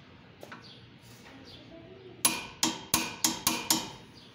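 A 3/4 wrench tightening the shock absorber base bolt on a Honda Civic, Element or CR-V: six sharp metallic clicks in quick succession after a quiet stretch with faint background chirps.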